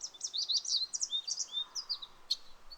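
Birds sing at dawn, a string of quick high chirps and tweets repeating in bursts, fairly faint and distant over a quiet outdoor hush.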